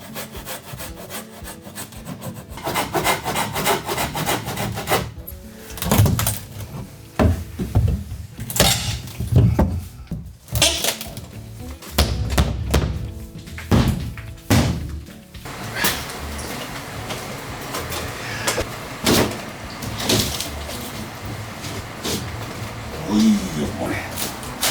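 A wall section is cut and torn out for a 1-metre doorway in a Japanese house, with loud, irregular wooden scraping, sawing and cracking bursts and knocks, close by and continuous.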